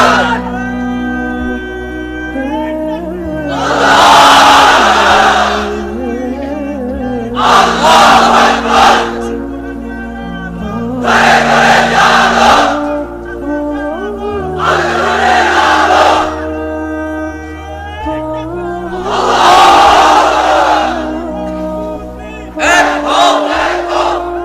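A large crowd chants the takbir in unison at an Islamic sermon gathering, with five loud, full-throated bursts recurring every few seconds and a preacher's voice leading between them.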